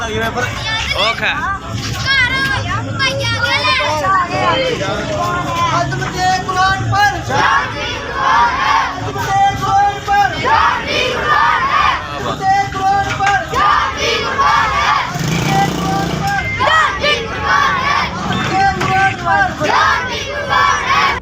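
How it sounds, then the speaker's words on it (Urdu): A crowd of worshippers after Friday prayers at a mosque shouts angry protest slogans in loud, rhythmic bursts, voices rising and falling in dense, close unison with scattered individual shouts between. "نماز جمعہ کے بعد مسجد مبارک اہل حدیث کے امام مسجد اور ان نمازیوں نے شدید نعرے بازی کی اور جھنڈا بھی جلا دیا"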